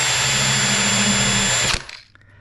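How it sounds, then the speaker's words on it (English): A power drill bores screw holes for kitchen cabinet door hinges, a loud, steady close whine that stops abruptly near the end, leaving a few faint clicks and near silence. "I find it easier to go ahead and do the screw holes first."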